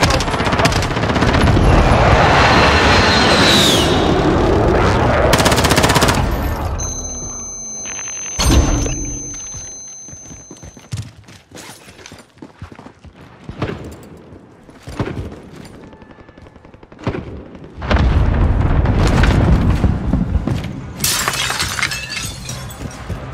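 A precision airstrike in Call of Duty: Warzone hits with loud, booming blasts and shattering debris. Long stretches of rolling explosions are broken by sharp, isolated bangs and crackles of gunfire, close and heavy, with almost no talk.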